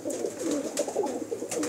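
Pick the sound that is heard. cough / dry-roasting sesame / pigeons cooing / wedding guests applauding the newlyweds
pigeons cooing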